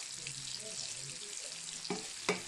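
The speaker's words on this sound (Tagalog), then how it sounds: "First, onion and garlic, I fry." Onion and garlic sizzling steadily in a hot pan, a constant bright frying hiss with a couple of sharper stirring clatters near the end, no talk.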